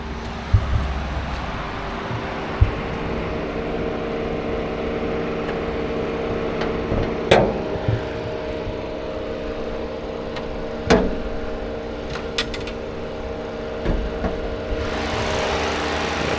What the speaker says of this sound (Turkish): Evet, motorumuzu çalıştırdık.